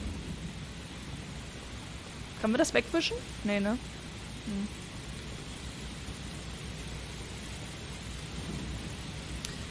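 Steady broadband rain hiss with a low rumble continues throughout a rainy scene in the video game Heavy Rain, while someone speaks briefly over it.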